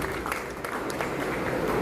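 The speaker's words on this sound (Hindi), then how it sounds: "माननीय कलेक्टर साहब के लिए एक बार ताली हो जाए" A crowd at the inauguration of a beekeeping centre in Rajasthan gives the district collector a dense, continuous burst of applause that stays steady and fairly loud throughout, with no speech over it.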